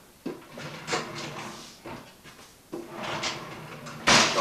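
Wooden drawers of a newly built buffet slide open and shut several times, each stroke a short hollow rumble ending in a knock, with a louder thump near the end, close and without talk.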